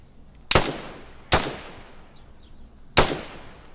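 Gunfire in the video game DayZ Standalone: three sharp, loud single shots spaced unevenly, each with a short decaying tail, over a quiet background.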